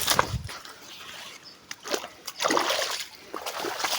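Irrigation water flows down from pools toward rice paddies in a rural province, with bursts of splashing and sloshing over a steady wet rush, close and moderately loud.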